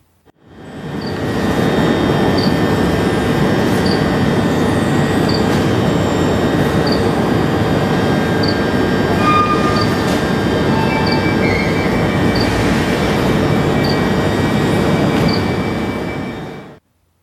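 A train runs past close by for most of the stretch, a loud steady roar of wheels on rails with squealing tones and a regular clicking beat, fading out at the end.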